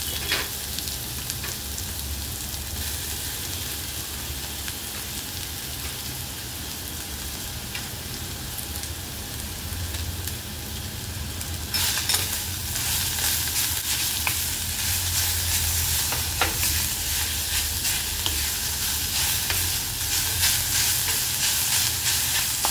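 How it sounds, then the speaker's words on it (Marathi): Grated onion frying in a pan for Maharashtrian masvadi, a steady close sizzle and hiss that continues throughout and grows louder and brighter about halfway in, with no talking. "हलकी ब्राऊन झाली की किसलेला कांदा टाकून घ्यायचा आहे आपल्याला"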